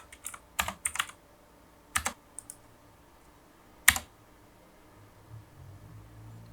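Clicky bursts of keystrokes on a computer keyboard during a Linux terminal install, a few quick clusters followed by a single sharp press of the enter key, then quiet room hiss.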